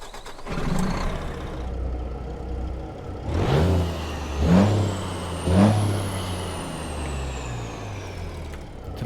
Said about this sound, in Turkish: aracımızı önce bir dıştan çalıştıralım, duyalım sesini